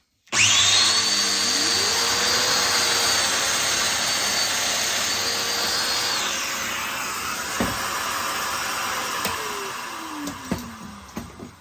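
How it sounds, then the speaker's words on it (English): A Festool Domino joiner starts up and cuts a 20mm-deep mortise into scrap MDF, a loud, steady high-pitched motor whine that shifts in pitch as the cut proceeds, then winds down with a few clunks at the end. "All we're going to do is cut a 20mm deep domino and a bit of scrap MDF."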